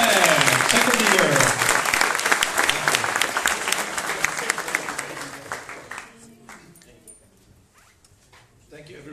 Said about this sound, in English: Big applause to Dario, and welcome to SpacantTech, second